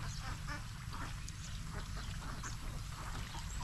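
Ducks quack in a steady chorus, close and continuous, over a low background rumble, with no talking.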